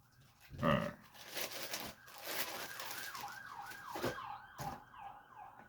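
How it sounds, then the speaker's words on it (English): Emergency vehicle sirens wail outside near a police precinct, a faint rising and falling tone that sweeps repeatedly in the distance, with a few nearby clunks and rustles indoors. "Yep, there goes sirens."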